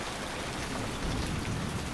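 Rain and water effects in the VR game Squingle: a dense, steady hiss of rainfall pattering on surfaces, loud and continuous, with a low rumble building toward the end.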